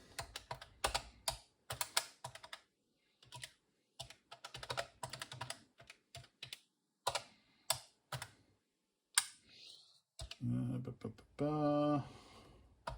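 A program is typed on an old computer keyboard, with clicky keystrokes in irregular runs and pauses, close and fairly quiet. A short burst of tonal electronic sound follows near the end.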